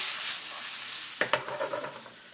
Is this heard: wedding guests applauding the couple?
no